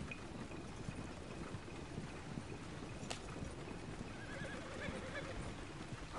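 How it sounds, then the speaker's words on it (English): A skittish horse in the Red Dead Redemption 2 game whinnies and shifts its hooves against a faint, breezy outdoor background, the sounds quiet and set back with a sharp click partway through. "I think the horse is getting skittish."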